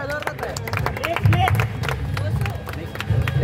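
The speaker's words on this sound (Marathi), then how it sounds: "चंद्रकांत सरांसाठी जोरदार टाळ्या." Audience applause and cheering at an arm wrestling contest during a Ganesh festival, scattered hand claps and crowd noise rising and falling, with a voice talking loudly over the crowd.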